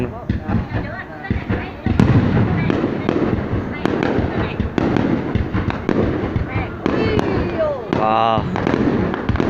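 New Year's Eve fireworks display in Bac Kan province, Vietnam, 2019: continuous loud crackling and popping bursts with sharp bangs and whistling rockets, close by, while people talk and exclaim throughout.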